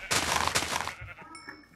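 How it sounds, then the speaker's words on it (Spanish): In the video game Minecraft, a sheep lets out a loud, close bleat lasting about a second, followed by fainter game sounds. "Acá, mira, oveja."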